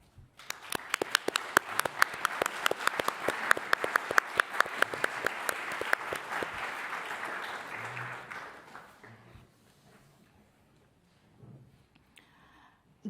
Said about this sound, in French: je leur propose de se lever peut-être ou de venir pour qu'on les voie et de les applaudir